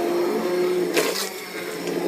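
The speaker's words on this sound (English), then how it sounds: "now I'm going to use an immersion blender to smoothen all this out" Steady whirring drone of an immersion blender puréeing ginger butternut squash soup in a pot, continuous and close, with a brief louder surge partway through.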